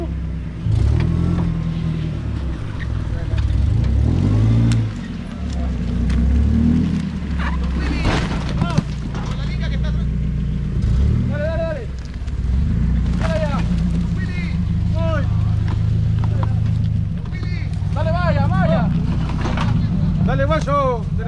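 A 4x4 engine growls loudly and steadily while crawling down a rough off-road trail, its pitch shifting under load, as people call out directions and speak over the motor throughout.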